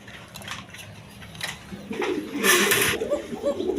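Pigeons coo softly at a pigeon farm, a pair with young among them. Low murmuring coos recur under faint background noise and occasional splashy hiss, and someone talks intermittently nearby.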